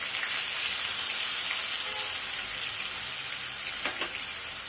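Onion paste with bay leaf and crushed cardamom sizzles steadily in hot oil in a pan for katla fish curry, a constant hissing fry with faint stirring scrapes near the end.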